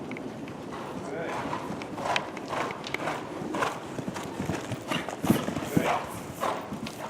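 Hooves of a horse clip-clop steadily through a riding lesson, a close, regular beat continuing under an instructor's spoken coaching.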